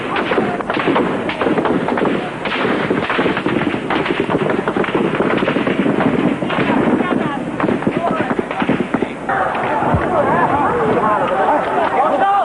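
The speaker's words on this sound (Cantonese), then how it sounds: "軍隊開槍。" Gunfire as troops open fire on a crowd, dense bursts of sharp cracks and pops over continuous shouting and crowd noise, loud and chaotic throughout.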